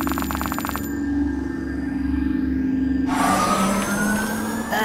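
An ambulance siren from the Kick the Buddy video game comes in loud and close: a wavering electronic wail with a ringing tone, a brief drop to quieter sustained tones, then a second bright burst near the end.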